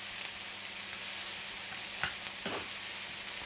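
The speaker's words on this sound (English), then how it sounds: "your tomatoes. Just pop them in there just now. Now they make a hell of a noise." Tomatoes sizzle loudly in a frying pan among bacon, a constant close hiss and crackle with a couple of soft scraping knocks as they are turned.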